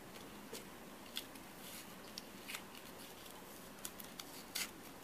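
Paper legs being torn off a cut-out figure in a preschool counting lesson, faint crisp rips and crinkles at scattered moments, a few sharper tears standing out against quiet room noise.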